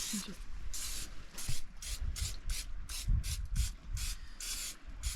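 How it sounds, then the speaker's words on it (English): Rapid bursts of cooking spray hiss in short repeated pumps into an Omnia stovetop oven, close and loud, over low clattering handling noise. "We're gonna spray down our Omnia oven."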